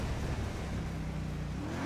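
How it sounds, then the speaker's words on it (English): A loud car engine roars steadily and close in a police roleplay game, a constant dense drone with no breaks and no speech. "That car is fucking loud as shit."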